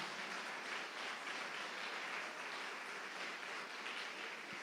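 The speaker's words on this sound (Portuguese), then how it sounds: "Vamos dar uma salva de palmas para Jesus" A church congregation claps steadily in praise of Jesus, a dense, continuous wash of applause that holds evenly for several seconds without any voices breaking through.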